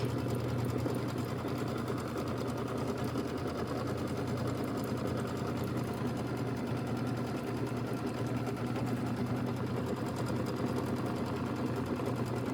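An embroidery machine stitches the tack-down outline on a decorative hot pad, a steady, even mechanical whirr with rapid needle pulses running continuously at moderate level, with no talking.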